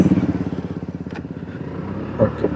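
A Hero Destini 125 cc scooter rides along and slows under rear braking, its engine giving a steady, close, evenly pulsing drone throughout with a few light clicks near the end.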